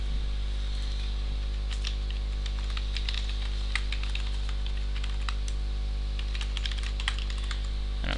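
Typing on a computer keyboard to log into an account, with irregular, closely spaced key clicks over a steady low electrical hum, close and clear with no voices.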